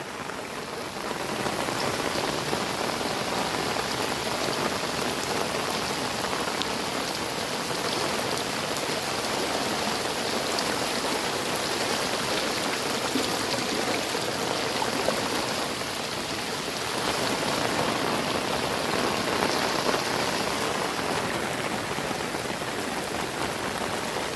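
Torrential monsoon rain pours down in Gir, a dense, loud, unbroken hiss of drops hammering surfaces for the whole stretch, with no voices.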